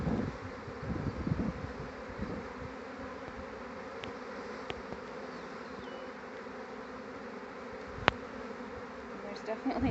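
A honeybee swarm hums around a hive, a dense, steady buzz of many insects filling the air continuously, with a few faint clicks and knocks over the top.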